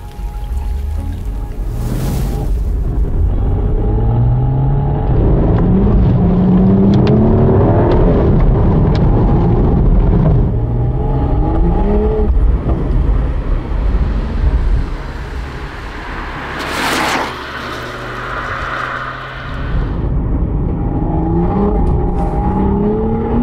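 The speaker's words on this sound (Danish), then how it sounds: "Sådan en række 6, ikke? Det er altså fandme bare en smuk konstruktion. Ja, det er en dejlig harmonisk klang" A BMW inline-six engine runs and revs from inside the car, rising and falling engine tones over a steady rumble of road noise, close and sustained with no talking.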